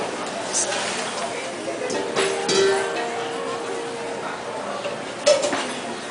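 Metal pans shifted and set down on a tablecloth-covered table, giving a few soft clinks and scrapes with a faint ringing tone, under someone talking.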